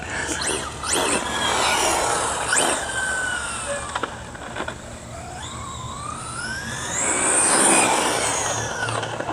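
RC truck on SMC HCL-HP lipo battery running at quarter speed, electric motor whine sweeping up and down with brief bursts and a louder rising pass near the end, no voices.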